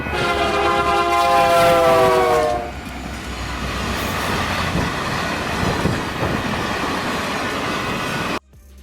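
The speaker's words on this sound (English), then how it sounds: "As for the horn, I do not know what it uses, but I can play a video of what it sounds like." A Union Pacific presidential unit locomotive sounds its horn loudly for about three seconds with a rich chord. Then a steady, rumbling train roll carries on until the end, with no talk.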